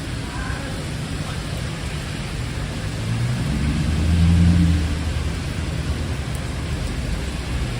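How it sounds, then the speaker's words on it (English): Heavy rain pours down outdoors during a thunderstorm, a dense, steady hiss that swells with a low rumble midway before settling back. No one speaks. "so you guys can see just how hard it's raining"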